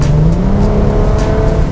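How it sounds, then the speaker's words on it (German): A Mercedes SL350 with a naturally aspirated engine revs while driving, a loud, close, rising engine note held steadily through the short stretch. "Was ich hier fahre, ist tatsächlich der letzte reine Sauger SL, den man noch kriegen kann."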